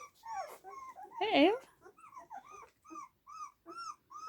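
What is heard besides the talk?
puppies whimpering and growling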